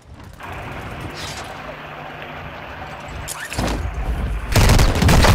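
Gunfire in a Call of Duty match: scattered shots build to heavier bursts and booming blasts toward the end, fairly loud and close, with a voice speaking faintly in the background.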